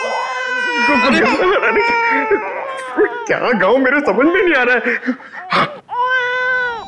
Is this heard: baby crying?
yes